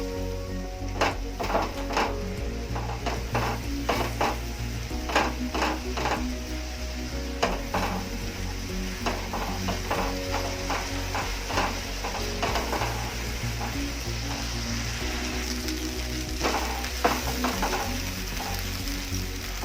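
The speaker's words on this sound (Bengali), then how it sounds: "মশলার বাটির ভাই জল দিয়ে দেবো। দিয়ে এবার ভালোভাবে মশলাগুলোকে কষতে হবে" Spices with turmeric and water being fried and stirred in a pan, with repeated scraping and clicking strokes over a low steady hum, moderately quiet and continuous throughout.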